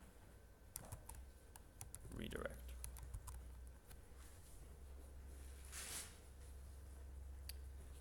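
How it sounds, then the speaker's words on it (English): Rapid clicking keystrokes on a computer keyboard during a coding session, a steady patter of taps with low room hum and brief talk from a person. "so lots of typing"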